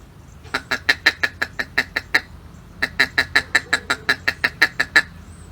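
A mallard duck gives a steady run of short, rhythmic feeding-call quacks, a burst of about nine, a brief pause, then a longer series of evenly spaced calls.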